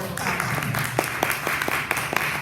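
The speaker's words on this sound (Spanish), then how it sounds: "Que le damos un aplauso al Señor." Congregation at a Sunday church service clapping for the Lord, a mix of scattered claps and sharper individual hand strikes over room murmur.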